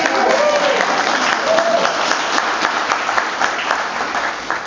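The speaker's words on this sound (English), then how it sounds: "I'd like to hear a round of applause for these great" Loud, sustained applause from a large crowd at a political rally of California Latinos for Bernie, clapping densely and evenly, fading slightly at the end, with a few voices mixed in.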